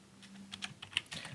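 Typing on a computer keyboard while entering Python commands one at a time: a quiet run of several soft, irregular key clicks over a low steady hum, with no talking.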